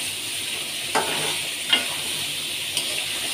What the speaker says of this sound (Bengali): তাই সয়াবিনটা ভালো করে ভেজে নিচ্ছি, সাথে আছে পেঁয়াজ আর রসুন।